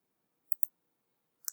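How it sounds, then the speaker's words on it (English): Computer mouse clicks during work in AutoCAD 2007, three sharp, faint taps close to the ear, a quick pair followed by a single click after a short pause. "So click over here and now click over here"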